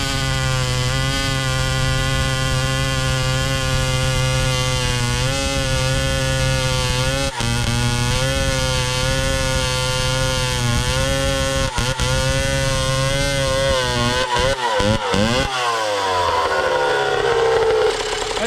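A revived Pioneer 650 chainsaw runs loud and close for a long stretch, a buzzing two-stroke drone that bogs and wavers as it cuts into Arbutus wood, then revs and drops near the end.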